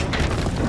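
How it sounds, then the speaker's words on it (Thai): A brief, loud explosion from the video game Call of Duty: Advanced Warfare fills the moment with a dense, rumbling boom lasting under a second. "ระเบิด"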